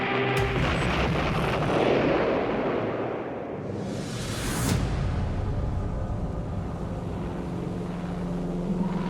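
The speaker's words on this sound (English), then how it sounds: "The Japanese launch another wave of 120 aircraft." World War II aircraft over a Pacific battle, a loud continuous engine roar with a swelling whoosh as one passes near, blended with rumbling noise of an old recording.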